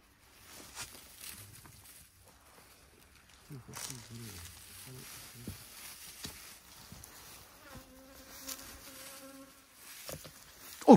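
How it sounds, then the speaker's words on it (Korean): Honeybees swarm around old-style hives kept by an elderly beekeeper at a bark-roofed mountain home after winter, a dense close buzz with individual insects zipping past the ear, some rustling and handling noises, and low voices briefly heard. "벌이 막 덤벼든다"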